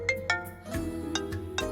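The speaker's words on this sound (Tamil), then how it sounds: "தினேஷ் தான் ஃபோன் பண்றான்." Phone ringtone of an incoming call in a Tamil TV serial scene, a repeating melodic chime with rhythmic pulses, clear and moderately loud, with no talk over it.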